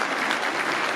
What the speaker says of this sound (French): Et je vous demande de vous lever et de les applaudir fortement, s'il vous plaît.